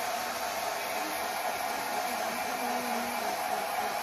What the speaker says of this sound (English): And then I take my blow dryer and I just, it's on low, and I just go over my hand